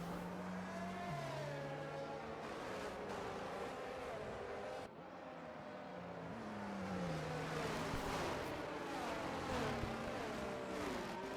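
Racing cars in a sim racing game at the China circuit, a steady high engine whine rising and falling with gear shifts, loud and continuous, with a brief dip midway.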